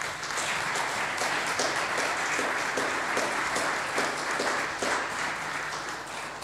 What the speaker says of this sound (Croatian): Može jedan pljesak.